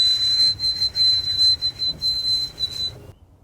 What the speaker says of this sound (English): As we sit and listen, we can hear the white-throated sparrows whistling.